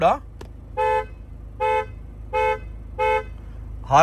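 A car horn sounds four short, evenly spaced honks of equal loudness, close by, with a voice speaking briefly at the start and at the end.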